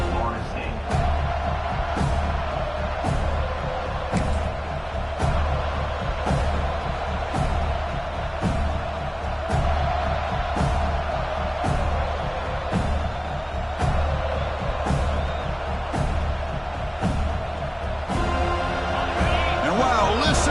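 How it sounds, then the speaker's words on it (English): A stadium crowd roars steadily at an Ohio State football game, a dense continuous wash of noise with a commentator talking over it throughout. "listen to this crowd noise. This stadium is vibrating"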